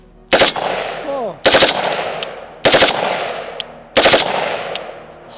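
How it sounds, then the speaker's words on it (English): An AR pistol with a forced-reset trigger and a milspec Atrius selector fires four loud, sharp unsuppressed three-round bursts about a second apart, each ringing out behind. A man gives a brief exclamation between bursts. "3-round FRT burst with the milspec selector from Atrius"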